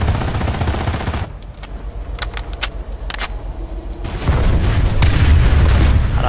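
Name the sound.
explosion in a video game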